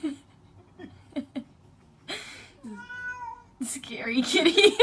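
A cat meows several times in short plaintive calls, near and clear, with quiet pauses between them and people's voices and laughter joining toward the end.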